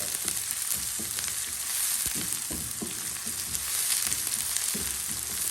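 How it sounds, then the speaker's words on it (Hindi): Thickly chopped onions frying in a pan for an egg and onion dish: a continuous close hiss and sizzle with scattered crackles and soft stirring knocks, no voices. "ये डालने के फ़ौरन बाद मैंने इसमें प्याज डाल देना है।"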